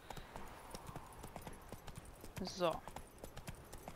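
Steady clip-clop of horse hooves at a walking pace in The Witcher 3, regular evenly spaced taps, with a brief whinny-like sound midway and a voice speaking over it.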